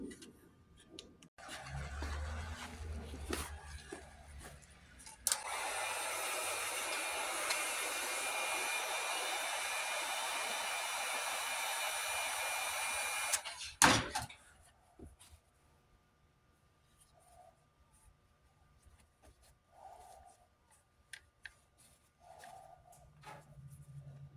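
A heat gun heating Kydex for a knife sheath blows with a steady, loud whoosh for about eight seconds, preceded and followed by quiet handling clicks and taps on a workbench.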